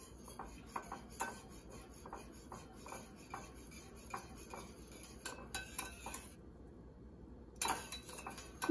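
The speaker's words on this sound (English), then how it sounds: "You're gonna use a whisk or a big spoon to just stir this all together." Cacik being whisked in a bowl with a whisk or big spoon: yogurt stirred into a watery mix, giving quick repeated clinks and scrapes of metal against the bowl in an uneven rhythm, close and clear, with a short pause near the end.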